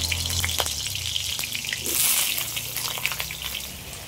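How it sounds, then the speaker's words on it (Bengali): Potato pieces fry in hot oil with a continuous crackling sizzle that swells briefly partway through, close and fairly loud, with no one speaking. "এই আলুগুলো সব আমি ভেজে নেব"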